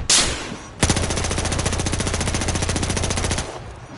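Automatic gunfire in Battlefield Hardline: a sustained rapid burst of evenly spaced shots, loud and close, running about three seconds after a brief opening sound, with no talk over it.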